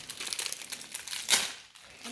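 Wrapping paper crinkles and crumples as a gift is unwrapped, a steady close rustle with a sharper tearing burst partway through before it briefly quiets and resumes.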